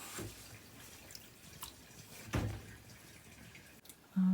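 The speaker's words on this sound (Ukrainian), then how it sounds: "Далі я просто відкриваю злив, чекаю, поки стече водичка." Water drains quietly from a sink after a knitted cashmere, merino or mohair sweater is hand-washed, with faint trickling and scattered drips. A soft gurgle comes near the end.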